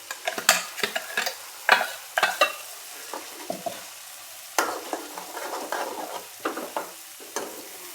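Spice masala for a chickpea dish is sautéed in a pan, sizzling softly while a spoon scrapes and taps in irregular strokes, close up and with no talking.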